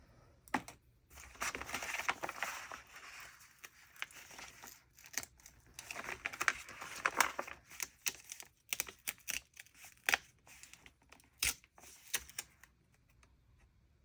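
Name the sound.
cutting paper with scissors for journal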